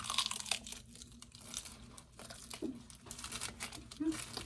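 Plastic wrapper of a Korean triangle kimbap with tuna being pulled open by hand, a close, soft crinkling and tearing that comes in short bursts, with quiet talk in the background.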